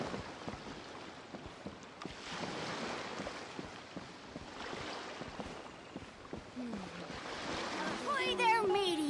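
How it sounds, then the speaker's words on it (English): Calm ocean waves wash and surge softly in Genshin Impact under a breezy, windy ambience. The swells rise and fall at a low level, and a faint voice comes in near the end. "Waves are as calm as always."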